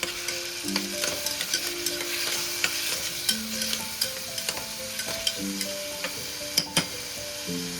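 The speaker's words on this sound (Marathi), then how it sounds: "बारीक चिरलेला कांदा आहे तो सुद्धा मी त्यामध्ये घालून घेते छान असं परतून घ्यायचं आहे" Finely chopped onion fries in a pan with ginger-garlic paste for a rajma masala. A steady soft sizzle runs under repeated close spoon scrapes and taps against the pan, with no talking.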